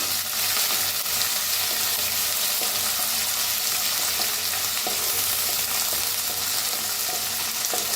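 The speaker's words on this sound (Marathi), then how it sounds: "लसूण, हिरवी मिरची, अद्रक, कोथिंबीर सगळं असं बारीक करून घेतलेलं आहे खलबत्त्यात. भाजून घेऊया." Crushed garlic, green chili, ginger and coriander paste roasting in a pan, a steady close sizzle with occasional stirring scrapes, no voices.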